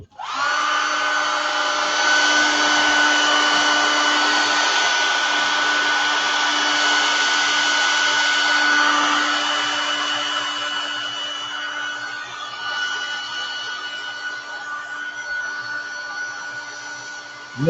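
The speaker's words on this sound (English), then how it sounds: "I'm going to hit it with the blow dryer." Blow dryer drying airbrushed green paint, a loud steady whirring hum with a constant whine that runs for many seconds, easing slightly in volume partway through as it is moved.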